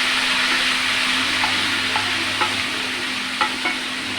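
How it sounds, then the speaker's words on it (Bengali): Onion and capsicum fry together with chopped garlic and a little salt in a pan, giving a steady close sizzle with a few light stirring taps, plus a low constant hum. "তারপরে আমি পেঁয়াজ আর ক্যাপসিকাম দুটো একসাথে দিয়ে দিলাম ভাজতে।"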